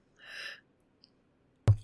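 Two or three small mouth clicks, sharp and isolated, with a soft breathy sound at the start and a louder thump at the end.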